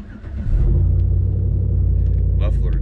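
A truck engine fires up and immediately settles into a loud, deep rumbling exhaust from muffler dumps close by, with a brief voice near the end.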